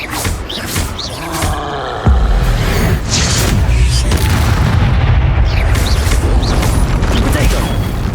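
Confringo explosive spells burst in Hogwarts Legacy combat, a heavy boom cutting in and giving way to continuous rumbling blasts, loud and dense throughout, with shouted spell incantations over the top.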